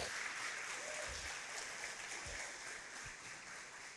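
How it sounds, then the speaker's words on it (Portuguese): Applause from a church congregation during a celebration service, a steady broadband patter of many hands filling the room, with a few low thumps underneath and no talk over it. "Dá uma salva de palmas para Jesus"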